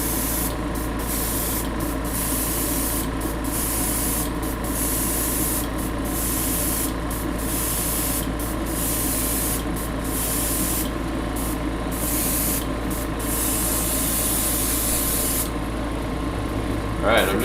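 An airbrush sprays cheap dollar store paint onto cardboard terrain through a nozzle prone to clogging. Close, hissy spray bursts repeat in a regular on-off rhythm over a constant compressor hum, ending in a longer stop.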